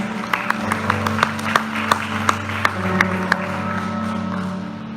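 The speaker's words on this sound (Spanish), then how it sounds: "Dale un fuerte aplauso al Señor." A church congregation claps in a steady, rhythmic beat over sustained instrumental music, each clap sharp and evenly spaced.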